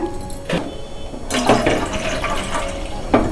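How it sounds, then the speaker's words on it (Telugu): Water splashes and gushes from glasses into a pot on a stove in a couple of short pours, with clattering and bumping in between, close up. "నేను రెండు గ్లాసులు వాటర్ పోసానండి"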